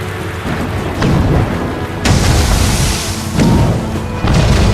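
Mortar fire in the video game Assassin's Creed Rogue: loud, heavy booms arrive in a rough series of about four blasts over a constant rumbling roar.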